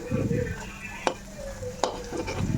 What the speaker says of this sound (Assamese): কেৰাহীত তেল দিছোঁ। ৰিফাইন তেল ব্যৱহাৰ কৰিছোঁ। এই পকৰিকেইটা দি দিলোঁ।